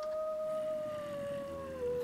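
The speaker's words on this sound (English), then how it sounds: "I still hear howling." A long, steady howl in the video game Minecraft, one sustained tone that slowly drifts lower over about two seconds, moderately loud over a low rumbling background.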